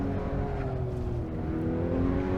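A race car engine in the Assetto Corsa racing game on a Pikes Peak hill climb drones steadily at high revs, with a rising tone as the car drives and drifts.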